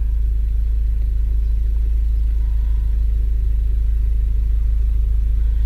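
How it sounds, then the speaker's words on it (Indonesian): A Toyota car engine idles in Drive during an idle relearn after a throttle body cleaning, with revs settling toward 1000 rpm. A loud, steady low rumble with an even pulse continues throughout, with no talk. "nah ini kita lihat RPM-nya akan perlahan-lahan turun ke bawah 1000."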